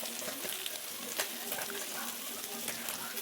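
Long strips of eggplant fry in oil in a pan, with a steady, close sizzle and fine crackling throughout.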